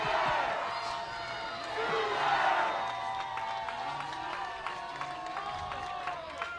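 Crowd noise at a baseball stadium during a Washington vs Oklahoma super regional game, a steady murmur with swells of cheering, close tonal voices and scattered sharp claps or bangs throughout.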